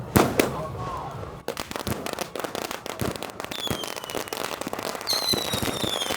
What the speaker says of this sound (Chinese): 噼里啪啦的鞭炮声